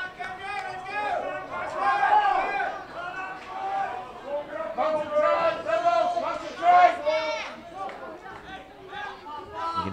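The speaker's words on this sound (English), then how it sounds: "You can hear the crowd" Crowd chatter and cheering from spectators at an under-17 junior rugby union match, Western Province versus Victoria, rising and falling steadily beneath a commentator's continuous talk.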